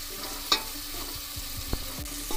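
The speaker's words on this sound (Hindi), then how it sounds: "टमाटर को थोड़ा सा हम नरम होने देंगे, 1 मिनट तक इसमें ही सॉटे कर लेंगे।" Tomatoes sautéing in a pan for biryani rice, a soft steady sizzle with a few scraping stirs and light clinks close by, no voices.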